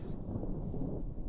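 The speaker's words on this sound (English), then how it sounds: "it's just over my building right now, just, you know, pouring and thundering" A thunderstorm with pouring rain over a building in Northern Illinois, heard as a dense, low, rumbling wash with no distinct claps, steady and muffled throughout.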